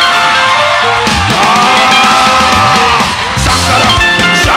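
A crowd at a church service screams and yells loudly and close, a dense sustained roar of voices with rising whoops across the whole stretch.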